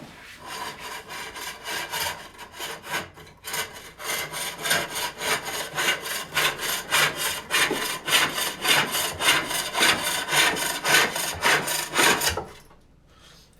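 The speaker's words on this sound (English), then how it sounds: "So I'm going to shove in a little bit, but let the spring do the scraping." A spring-loaded cutter scrapes wood on a pole lathe in fast, rhythmic rasping strokes, each pass rising and falling as the work spins back and forth. It is loud and close for about twelve seconds, then stops abruptly.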